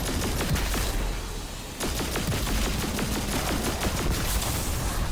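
Thunderlord machine gun from Destiny fires rapid bursts through a solo flawless Master Actium War Rig strike, with sustained crackling gunfire and a brief dip in intensity before the shooting resumes.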